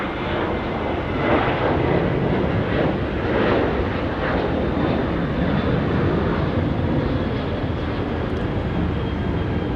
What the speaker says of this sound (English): the 737 off to Adelaide.